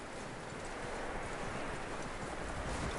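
Horse hooves clip-clopping in Red Dead Redemption 2, a steady stream of hoof falls over a constant rumbling background with no talk.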